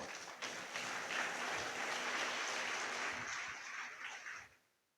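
Sustained applause from a large church congregation fills a reverberant hall, steady for several seconds before fading out at the end.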